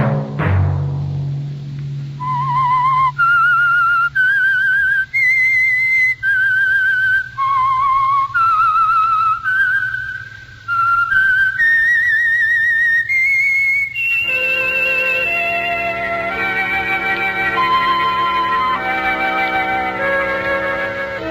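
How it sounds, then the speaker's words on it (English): A whistled theme melody from the Signal Oil radio mystery program The Whistler: a clear solo whistle carrying a slow, eerie tune of sustained notes, followed by an orchestral continuation of the melody. "Let that whistle be your signal for the Signal Oil program, The Whistler"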